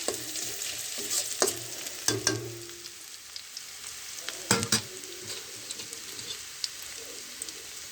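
Cardamom, cinnamon and cloves dropped into hot oil for a home-cooked biryani, crackling and sizzling up close with a few sharp spatters and stirring clinks over a low steady fry.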